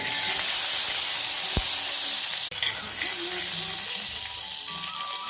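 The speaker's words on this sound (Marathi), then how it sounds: "लसूण थोडासा परतून घेते" Garlic cloves sautéing in hot oil with mustard seeds, cumin and asafoetida for a dal methi: a continuous, close sizzling hiss throughout, broken by a brief clink of a utensil.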